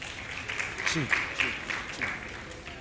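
An audience at a school quiz competition claps in a modest round of applause, with voices talking over the clapping throughout.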